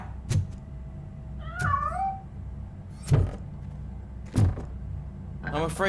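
A cat meows several times in the Robocop Rogue City video game, with short drawn-out calls spaced across a few seconds over a low game background hum, the last cry rising and wavering.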